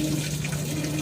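A Maytag 6.2 cu.ft. washer fills with water, a steady close hiss and rush of flowing water with a low hum running evenly throughout, no voices.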